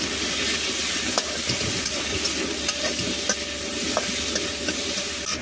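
A paste of garlic, chilli, onion and coriander fries in hot oil, making a loud, continuous sizzle broken by regular scraping strokes of a stirring spoon, no voices.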